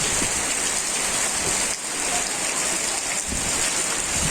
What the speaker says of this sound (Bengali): এবার আবার শুরু হয়েছে ঝড়